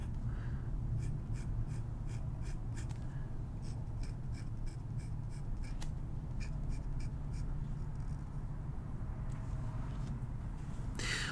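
Fountain pen nib scratching across paper in short repeated strokes, faint and close, in bursts with pauses between them over a low steady background hum.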